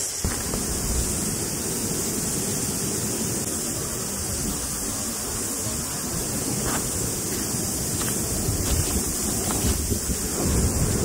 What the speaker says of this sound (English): It's gonna be windy again.